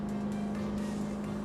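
A Cranchi Endurance 27 motorboat's engine runs under added throttle, a loud, steady droning hum with a strong low tone that holds evenly throughout.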